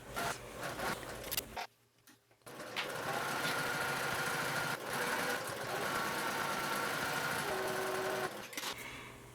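A sewing machine runs steadily while top stitching a folded strap, a close rapid mechanical chatter that pauses briefly, then resumes and continues for several seconds.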